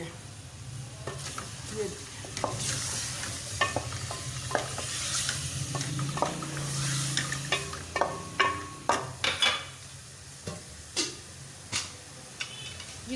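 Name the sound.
chicken cooking in ghee in a pan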